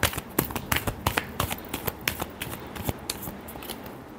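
Tarot cards being shuffled by hand in a quick run of crisp, papery riffles and slaps, close and fairly loud with no talking over them.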